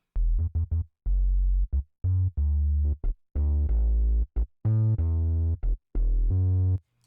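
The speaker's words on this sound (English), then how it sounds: "my bass layer sounded like this" A heavily EQ'd bass layer from an electronic mix plays alone, with punchy, close bass notes in a choppy, syncopated rhythm separated by short gaps.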